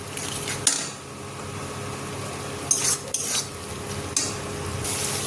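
A masala with ground mustard-poppy paste fries in a pan for a fish recipe, with a low continuous sizzle broken by a few sharp spatula scrapes and clinks against the metal.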